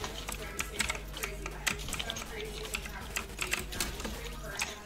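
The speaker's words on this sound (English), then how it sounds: "You're just spamming on your keys." Rapid computer keyboard typing with keys being mashed in quick irregular bursts, close and fairly quiet, as voices talk over it during a Fortnite session.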